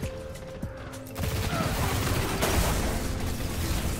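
Auto rifle crossfire in a Destiny Rumble match, a dense run of rapid shots that thickens into sustained overlapping fire after a brief lighter opening.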